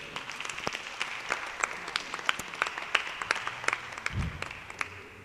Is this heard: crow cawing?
no